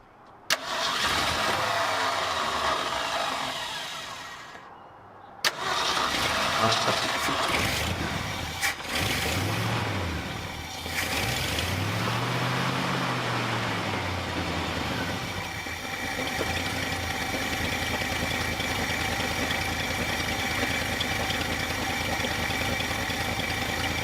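A 1966 Ford F250 engine cranks briefly, catches after a short pause and settles into a steady, loud idle, with the rumble wavering slightly as it runs on, close by and alone.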